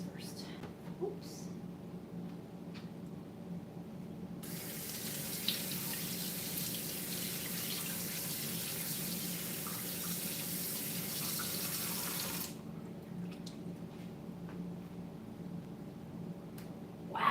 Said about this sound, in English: Probably should have rinsed the other kidneys first.